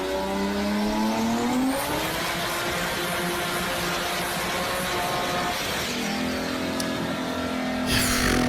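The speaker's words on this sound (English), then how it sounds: "This guy dynoed his car without a filter" A turbocharged car's engine revs hard on a dyno with no air filter fitted: a loud, sustained mechanical roar whose pitch steps up, holds and climbs again, with a sharp rushing burst near the end.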